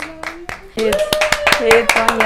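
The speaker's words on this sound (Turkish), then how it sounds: "Alkışlarla, siz de alkışlayın ha." Clapping breaks out and builds into a burst of applause, with a voice speaking over the sharp hand claps.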